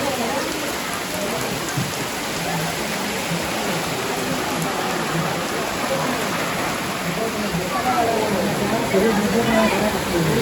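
Heavy monsoon rain pours steadily onto surfaces in a Konkan village, a dense continuous hiss that swells slightly near the end.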